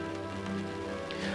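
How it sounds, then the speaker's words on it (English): Steady rain patters and smacks against a window pane, a soft continuous wash with faint scattered drops throughout, no voices. "Rain smacks against the window"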